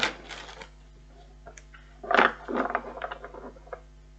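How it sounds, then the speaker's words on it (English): Tarot cards being shuffled by hand, a short crisp riffle at the start followed after a pause by a louder burst of flicking and sliding card sounds, close to the microphone. "One more shuffle, they're telling me."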